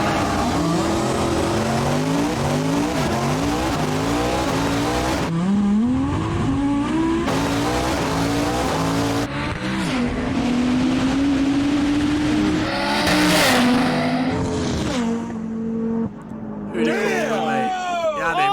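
The Hoonicorn race car revs hard through rising and falling engine sweeps, its tires squealing in long shrieks, loud and sustained, while people react and shout excitedly over the noise.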